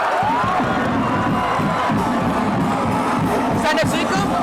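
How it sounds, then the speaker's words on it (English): Stadium crowd roaring and cheering after a high school football touchdown, East Brunswick against JP Stevens, a loud continuous wall of excited shouts with whistles and voices mixed in throughout. "That crowd's going nuts."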